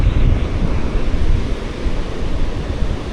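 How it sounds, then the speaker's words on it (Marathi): Sea waves wash onto Revdanda beach on the Konkan coast in monsoon weather, a loud continuous broadband roar of surf mixed with wind buffeting the microphone, no voices. "आणि हा बघताय समोर अथांग असा हा समुद्र किनारा, रेवदंड्याचा समुद्र किनारा"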